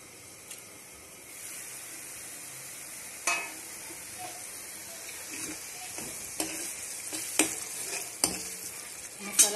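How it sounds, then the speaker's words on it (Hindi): Arbi masala curry simmers and sizzles in a pan, with a steady frying hiss and occasional stirring scrapes and pops, close and fairly quiet with no talk. "मैं फिर से इसे कुछ देर पकने के लिए रख देता हूँ।"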